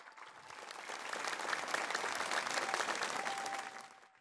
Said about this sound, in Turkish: Bu işi yapan bu aslan başkana yürekten bir alkış istiyorum.